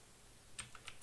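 A mechanical keyboard with blue switches is typed on in a few quick, clicky keystrokes, faint and irregular against a low background hiss.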